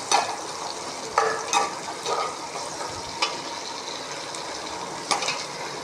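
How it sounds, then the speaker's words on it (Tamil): Curry leaves sautéing in a pan for a fish curry, a continuous soft sizzle with several sharp stirring scrapes and clinks of a spatula against the pan at irregular intervals. "கருவேப்பிலை போட்டோம். நல்லா வதக்கிடலாம். நல்லா வதக்கினா தான் மீன் குழம்பு நல்லாயிருக்கும்."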